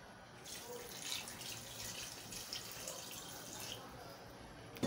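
Steady rush of water running from a tap, continuous and fairly close, with a faint splashing texture throughout.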